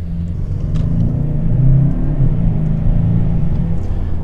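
A VW Passat GTE plug-in hybrid plays a synthesized engine note through its cabin speakers: a steady, low, rumbling drone that swells slightly as the car accelerates under a DSG gearbox, heard from inside without talk.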